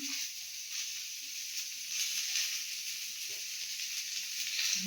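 Hyacinth beans fry with turmeric and salt in a little oil, giving a steady, moderately quiet sizzling hiss with faint occasional pops and no talking.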